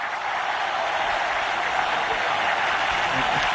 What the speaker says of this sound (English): Now that's brought the crowd to life.